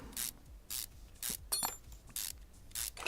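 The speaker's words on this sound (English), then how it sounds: "Remove all the bolts." Engine bolts being removed in Car Mechanic Simulator 2021, heard as six evenly spaced bursts of ratcheting, whirring impact-wrench mechanism sound, each about a quarter second long with short pauses between, close and clear with no talk.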